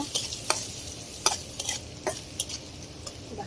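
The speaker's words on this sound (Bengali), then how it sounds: "পেঁয়াজটা একটু বেজে নিব" Onion fries in hot oil in a pan with green chili, salt and turmeric, a steady close sizzle broken by repeated scraping stirs of a spoon against the pan.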